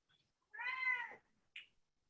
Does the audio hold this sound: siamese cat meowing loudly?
yes